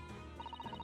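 A telephone ringtone chirps in a quick run of about seven short, evenly spaced beeps, fairly faint, over steady background sound.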